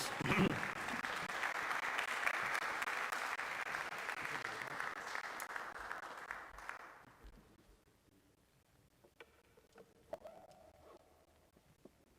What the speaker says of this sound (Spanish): Pero que escuche el aplauso, pues, por favor